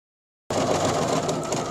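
A sewing machine runs a zigzag stitch along a stitching line, starting abruptly after a half-second of silence and then whirring steadily and fairly loudly, close up, with no voices.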